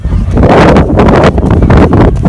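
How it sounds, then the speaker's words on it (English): Strong wind blows on a beach at Bridlington, buffeting the microphone with loud, continuous rumbling gusts and no speech. "It's really windy."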